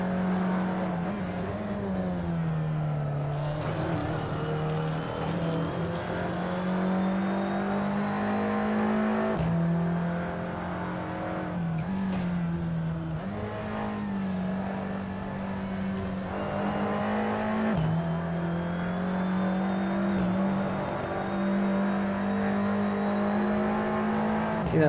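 Audi TT Cup race car in Assetto Corsa lapping the Red Bull Ring National circuit: a loud, close, sustained engine drone that dips briefly at several gear changes or brake taps, then climbs steadily again.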